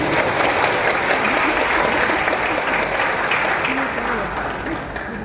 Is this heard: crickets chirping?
no